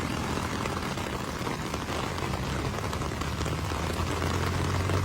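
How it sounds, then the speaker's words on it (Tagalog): Heavy rain pours down in a dense, steady roar, loud and unbroken throughout, over the flooding Marikina River. "bumuhos na naman yung napakalakas na ulan dito"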